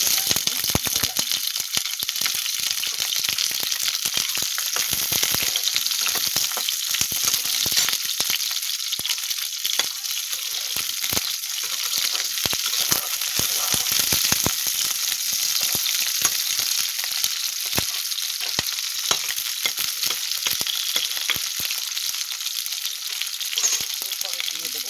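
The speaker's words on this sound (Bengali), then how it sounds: "কপিটাকে আমি ভেজে নেব।" Cauliflower fries lightly in a pan with a loud, continuous close-up crackle of popping oil and dense spitting bursts, steady throughout with no pauses.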